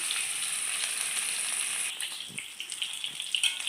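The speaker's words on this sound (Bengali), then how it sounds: "তেলটা গরম হয়ে গেছে, দিয়ে দিচ্ছি নুন হলুদ মাখা ইলিশ মাছ।" Hilsa fish coated in salt and turmeric goes into hot oil in a home kitchen, giving a steady, fairly quiet sizzle that turns more uneven partway through, with a few soft clinks and no talking.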